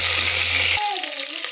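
Chopped onions and mint leaves fry in hot oil for a Kannada-style country chicken fry. The sizzle is loud and steady, and a stirring scrape joins partway through.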